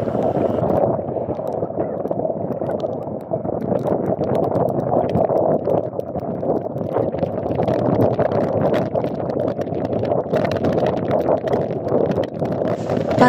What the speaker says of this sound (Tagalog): malakas ang hangin, nagpa-bounce ang hangin kasi may puntok dito.